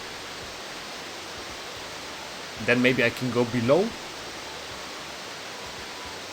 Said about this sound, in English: I guess they want me to get rid of those 3 waterfalls